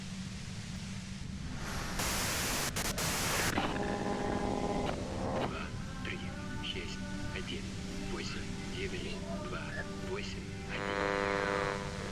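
Harsh broadband white noise from the Disco Elysium video game, a loud static hiss burst in the middle with tonal game sounds and music layered around it, while a voice talks over much of it.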